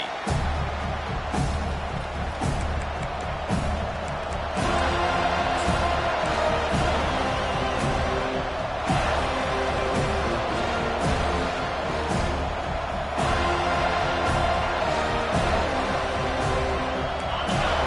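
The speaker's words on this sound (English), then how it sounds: "This crowd bringing an ear-splitting welcome to their visitors" A packed stadium crowd roars continuously at a college football season opener, a dense, sustained wash of cheering with a play-by-play commentator talking over it throughout.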